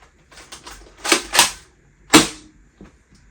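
A Nerf Nexus Pro X blaster fires a Rival round with sharp mechanical clacks and a loud snapping shot, several quick priming clicks followed by a crisp pop, no talk.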